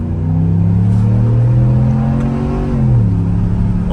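Ram TRX pickup truck engine revving in sport mode, a loud close rising roar with a thin whine riding above it, climbing steadily and then dropping briefly near the end.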